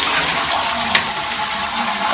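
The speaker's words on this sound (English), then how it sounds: "I'm going to flush it because it smells" Close toilet flush indoors: a steady broadband rush of water runs throughout, with a brief sharper splash near the middle, no voices.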